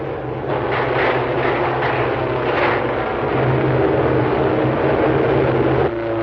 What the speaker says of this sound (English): Carrier planes in close support.